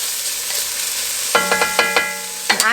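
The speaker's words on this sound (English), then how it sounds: "we're gonna toss this in the oil, and we're just gonna let our veggies soften" Vegetables for a creamy tomato tortellini soup are stirred and tossed in hot oil in a pot. A steady close sizzle builds into several sharp clattering stirs, with no voices.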